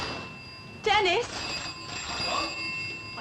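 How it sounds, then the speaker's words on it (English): A telephone rings close by while a voice speaks over it. "The phone. It's ringing."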